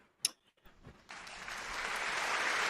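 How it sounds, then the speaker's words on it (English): A studio audience at a talk show breaks into applause after a few faint taps, the clapping starting abruptly and building into a steady, sustained wash. "let's give you a round of applause for midlife crisis"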